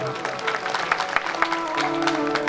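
An audience at a religious satsang gathering claps in scattered, uneven bursts, moderately close but fairly quiet, with crowd murmur underneath.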